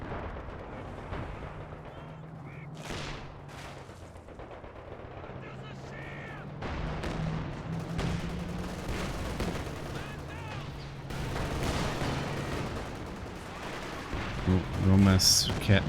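An artillery barrage in the Company of Heroes 2 strategy game rumbles with booming impacts and crackling gunfire under continuous match commentary, swelling into a louder cluster of blasts near the end.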